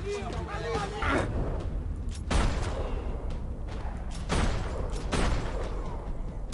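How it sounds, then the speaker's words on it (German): Gunfire in the video game Max Payne 3 comes as several sharp, booming shots spaced a second or two apart, loud and punchy over a rumbling game soundscape. "Drei Schüsse, drei sinken zu Boden."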